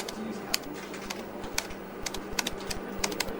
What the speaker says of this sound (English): just type the job website address here